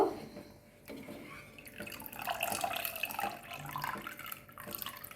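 Water drains and drips from freshly washed chhena (fresh cheese) left to strain in a kitchen, a faint, steady trickle with light splashing and no voices.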